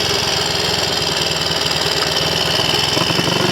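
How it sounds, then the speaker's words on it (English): A Triumph Scrambler Cub replica motorcycle engine runs with the battery fitted and the carburettor needle raised, a steady, loud, close, rapid thumping beat throughout. "Certainly a very willing, lively engine"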